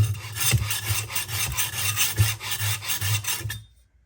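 Knife blade drawn repeatedly across a stone on a Sharpworx Utility Sharpener, a close, steady rasping scrape in quick rhythmic strokes with no pauses, ending abruptly after a few seconds.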